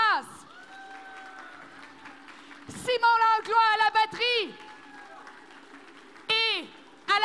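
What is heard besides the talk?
audience applauding the musicians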